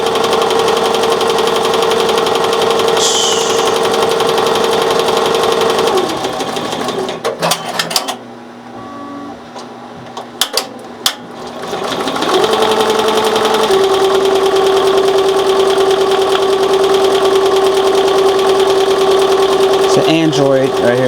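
A BAi Vision embroidery machine stitches 3D puff foam in a loud, steady rapid whir, halting briefly mid-way before resuming at an even pace.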